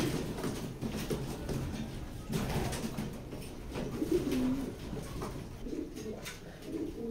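Pigeons cooing softly in a loft, low throaty coos repeating now and then under a steady murmur of background noise.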